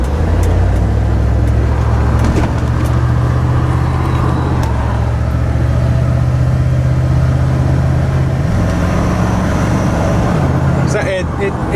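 A Ford truck engine with a newly made tail pipe runs with a deep, continuous exhaust rumble that rises slightly in pitch near the end, with someone talking over it.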